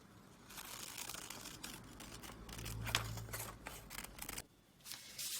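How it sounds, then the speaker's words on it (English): Scissors cut through denim pattern pieces from a leftover denim jacket, giving faint, close snipping and crisp rustling of fabric, with a brief louder crunch midway and no talking. "And I'm cutting up all my front pattern pieces."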